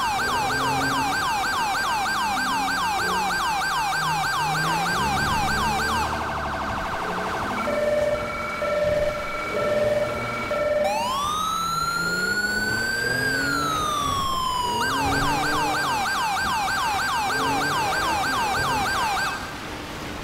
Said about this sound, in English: We'll go ahead and turn that siren out.